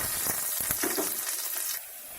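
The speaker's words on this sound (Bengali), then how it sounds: "প্রথমে তেলের মধ্যে দিয়ে দিচ্ছি কিছু কাঁচামরিচ এবং সর্ষে দানা" Green chillies and mustard seeds frying in a little oil in a wok-style pan, a steady bright sizzle with a few pops and spatters, close and continuous before easing slightly near the end.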